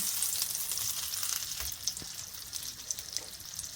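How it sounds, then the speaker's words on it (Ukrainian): Butter and cheese squares sizzling and crackling in a hot pan with oil and butter, a steady close frying hiss with small pops, no voices. "викладаємо наші квадратики"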